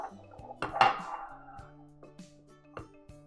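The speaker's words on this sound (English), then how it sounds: "Keep stirring." A spoon stirring homemade eggnog in a bowl, giving a few light clinks and scrapes against the dish, quiet and close, with one brighter knock early on.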